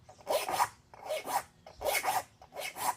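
Hand file rasping across the teeth of a rip saw held in a vise, four evenly spaced gritty strokes, close and fairly loud, with brief pauses between each pass.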